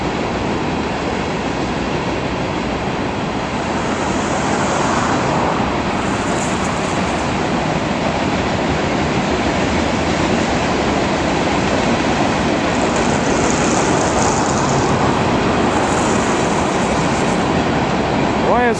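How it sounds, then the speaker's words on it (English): A long BNSF freight train carrying soda ash rumbles steadily past nearby in eastern Washington, its wheels clattering continuously with occasional faint squeals, loud throughout. "This doesn't even look like a grain train."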